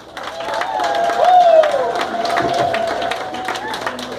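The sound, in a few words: audience applauding the parents at a graduation party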